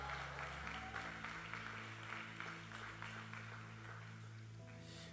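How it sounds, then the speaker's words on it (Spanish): An audience applauding, faint and steady clapping that runs through the whole stretch over a sustained musical tone. "pónganlos, un aplauso para él"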